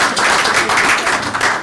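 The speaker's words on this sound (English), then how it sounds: "You can applaud if you like." Audience clapping for two retiring staff members at a state workers' compensation board meeting, a steady dense patter of many hands sustained throughout without a break.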